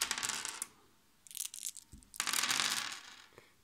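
Dice rattle and clatter onto a table during a children's dinosaur board game, with two or three short bursts of tumbling plastic, close and clear, and no voices.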